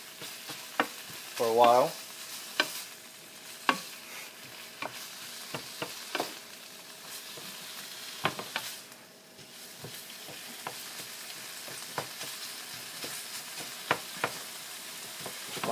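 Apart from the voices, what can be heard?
stir frying ginger pork in a pan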